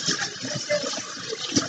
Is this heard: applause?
no